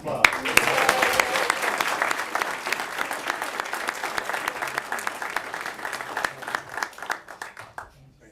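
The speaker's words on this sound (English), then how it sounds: "How about a round of applause?" Applause from the attendees of a city council regular session, dense and steady for several seconds before thinning out into scattered claps and fading near the end.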